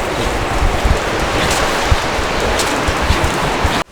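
Strong wind in the town centre of Fort William, Scotland, buffeting the microphone in a loud, continuous roar with gusty surges before it cuts off abruptly.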